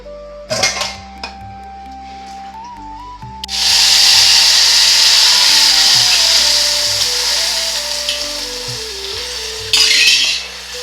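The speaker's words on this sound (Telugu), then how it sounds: "చారు తాలింపు అయితే వేసేసుకున్నాను" Tempering spices hit hot oil for a carom-seed rasam and burst into a loud, steady sizzle that keeps crackling, with soft music playing underneath.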